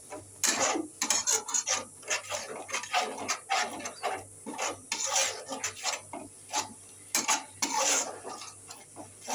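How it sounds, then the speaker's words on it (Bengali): Spice masala for dim alur is stirred in a pan, giving close, quiet rasping scrapes that repeat in an uneven rhythm throughout, with no talking. "আবার ভালো করে নেড়ে চেড়ে নেবো।"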